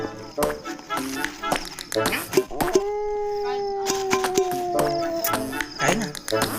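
A dog at a night campsite in Tanay, Rizal lets out a sustained howl lasting a few seconds, close and clear, with people talking and other noises around it.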